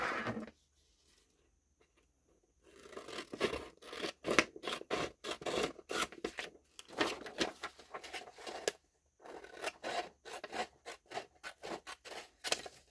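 Scissors cut paper for a steampunk craft in rapid, crisp snips close up, in rhythmic bursts separated by brief pauses.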